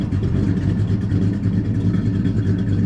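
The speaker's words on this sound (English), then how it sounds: "so you hear the blower motor there" The heater blower motor runs in a 1965 Chevrolet El Camino, making a steady, even whir and rushing hum inside the cab that stays constant throughout, with no talking.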